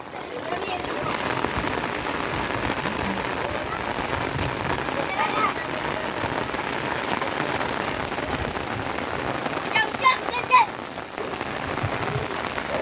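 Heavy rain comes down suddenly, a dense, steady patter of drops on surfaces that keeps up the whole time, with a few faint voices briefly in the background.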